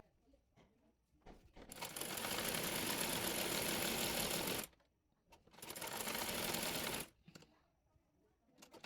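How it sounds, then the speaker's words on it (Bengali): A sewing machine stitches a sleeve in two close, steady runs of rapid mechanical whirring, the first about three seconds long and the second shorter, separated by a brief pause. "এরপর হাতা মুড়িয়ে সেলাই করে নেব।"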